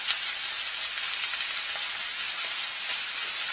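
Slices of ginger and white scallion pieces sizzle in hot oil in a pan beside seared pork belly for red-braised pork, a steady, close, bright hiss that holds evenly throughout with no talking.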